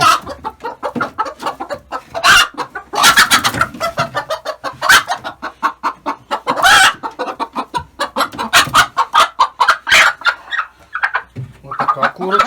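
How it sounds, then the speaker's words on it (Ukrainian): Several hens cluck and squawk close by in a busy, continuous stream of short clucks, with occasional louder squawks. "Так, і їдуть ще в нас і курочки."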